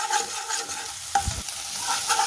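Homemade Schezwan sauce with tomato sauce and black pepper is stirred in a pan, giving a steady soft sizzle with a brief scraping stir near the middle, close and alone.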